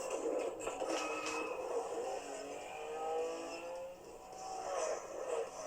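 An old car's engine whirs and revs in The Crew Motorfest racing game, a steady medium-loud drone with rising pitch sweeps and no talking.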